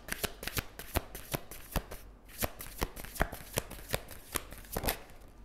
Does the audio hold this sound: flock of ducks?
no